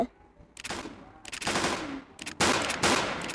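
Rapid bursts of bone projectiles firing at the player in a Sans-themed video game battle, sounding as loud, sharp volleys in quick succession, mostly on their own with little talk.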